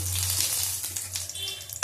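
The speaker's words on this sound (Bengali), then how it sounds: "ভালো করে ভেজে নেবো ফোড়নটা।" Bengali five-spice and a dried red chilli fry in hot oil, making a close, steady hiss with a low hum beneath and a light clink at the end.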